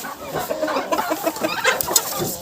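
Backyard hens cluck busily close by, a brief jumble of overlapping calls with no voices.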